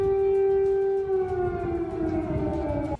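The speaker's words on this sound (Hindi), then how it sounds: "कीव में एक बार फिर एयर अलर्ट जारी कर दिया गया और सायरन बजने लगे" An air raid siren sounds over Kyiv as a loud, sustained wailing tone that slowly slides lower in pitch before cutting off abruptly at the end.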